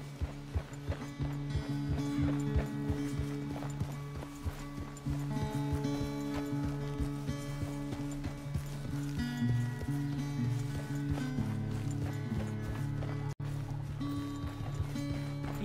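Horse hooves clop along in a quick, regular rhythm while riding in Red Dead Redemption 2, fairly soft and partly buried under steady game music.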